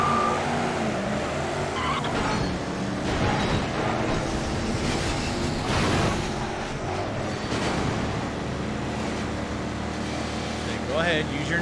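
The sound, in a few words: race car engine in Midnight Club 3 video game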